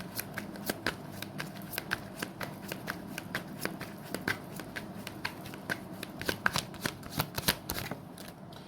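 Tarot cards being shuffled, a steady run of sharp riffling clicks and flutters repeating through the whole stretch, close and fairly quiet with no talking.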